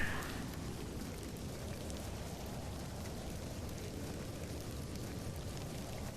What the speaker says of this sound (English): Sound of that rain